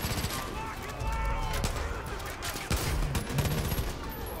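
Rapid volleys of gunfire burst through a firefight in Far Cry 5, several sharp cracks and rattling bursts piling up over dense game ambience while voices talk over the shooting.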